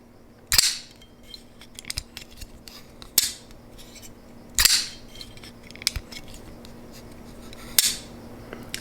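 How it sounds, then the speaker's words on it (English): A Something Obscene Company Jcape folding knife held close to the mic, its blade flicked open and closed: sharp metallic snaps and clicks, several loud ones spaced a second or so apart with softer handling ticks in between. "I'm going to put it right next to the mic so you can just hear the sounds this knife makes."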